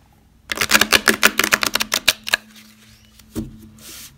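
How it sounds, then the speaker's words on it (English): Large tarot cards are riffle-shuffled by hand: a quick run of about a dozen crisp, close flutter-clicks over two seconds, then a softer bridge and a couple of lighter taps. "I'm a riffle shuffler, what can I say?"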